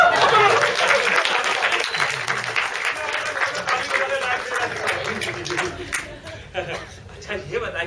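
Audience applause from a comedy stage performance, a dense steady wash of clapping held at moderate loudness throughout, mixed with crowd noise and some overlapping talk.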